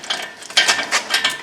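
Ratcheting wrench turning a front strut bolt on a 2009 Honda Pilot, a run of quick repeated clicks in short bursts, close and fairly loud with no talking.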